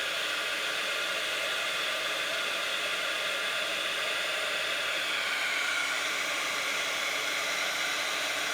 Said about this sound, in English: When you put the heat tool on, you'll start to see that embossing powder melt.